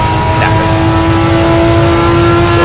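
Maserati MC12 GT1 race car accelerating in third gear onto the pit straight in the Simraceway racing game: a loud, steady engine drone with a sustained tonal whine, heard up close, with no talking.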